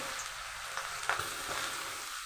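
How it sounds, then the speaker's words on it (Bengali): Julienned potatoes and green chillies frying in hot oil, a steady close sizzle with a few soft stirring scrapes and no voices. "এবার আমার এই কেটে রাখা ঝুড়ি আলুগুলোকে সব দিয়ে দেবো"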